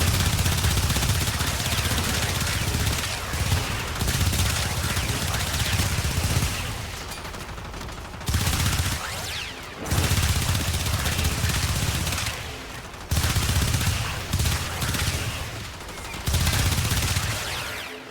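Dual Toxocyst pistols in Warframe firing in long, loud, rapid volleys, several sustained bursts separated by brief pauses across the stretch.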